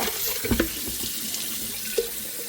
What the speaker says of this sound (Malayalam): കുറച്ചുകൂടെ ഒന്നുകൂടെ നല്ലതായിട്ട് കഴുകണം ഞാൻ കുറച്ച് നേരം കൊണ്ട് കിടന്ന് കഴുകുവാണിത്